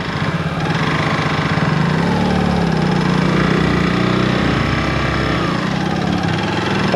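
A car engine labours uphill in second gear on a Wayanad road trip, giving a steady, close, continuous drone with a low rumble that holds without a break throughout.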